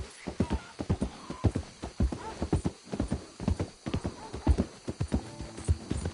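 Horse hooves clip-clop in a quick, uneven rhythm, close and clear, with a brief whinny mixed in, in the video game Red Dead Redemption 2.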